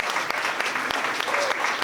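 Audience applause at an alumni foundation awards ceremony, a short burst of many people clapping, close and steady throughout.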